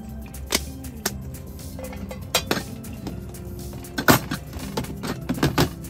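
Metal camping utensils and cookware, including pots, pans and a small teapot, clink and clatter in scattered bursts while being handled and packed into a bin for an SUV camper kitchen.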